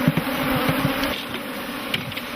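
Dense, continuous buzzing of worker bees at modern African beehives, close and steady with no voices.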